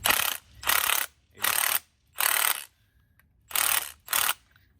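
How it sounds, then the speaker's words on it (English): An impact gun rattles in six short, loud hammering bursts with brief pauses between them, tightening a Koni shock on a C5 Corvette, close up with no talking. "I just usually put my gun on setting number 2, and it'll get it to about 50 or so foot-pounds"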